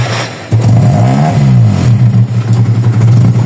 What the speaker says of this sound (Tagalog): Start natin yung makina guys.